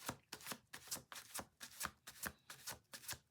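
Tarot cards being shuffled close up: a quick, steady run of crisp riffling bursts, roughly three per second, with no voices.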